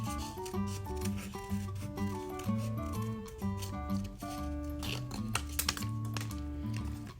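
Scissors cutting paper into strips for a craft project, with crisp snipping sounds running through loud, continuous melodic music playing throughout.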